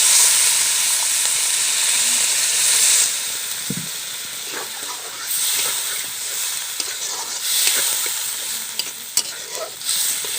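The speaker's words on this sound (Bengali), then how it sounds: "এইভাবে 2 বা 3 মিনিট মতো নাড়াচাড়া করে বন্ধুরা আমি এখন গরম জল দেবো" Village-style desi chicken with tomato and potato sizzles and hisses loudly in a hot pan as hot water goes in, the steamy fizz surging at first and then settling to a softer crackle with small pops and stirring clicks.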